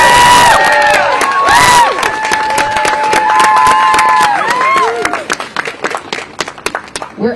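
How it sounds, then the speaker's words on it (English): A union rally crowd protesting Washington Post layoffs breaks into loud, sustained applause mixed with cheers and whoops, close and dense at first, then thinning into scattered claps. "can we actually just get a round of applause for them"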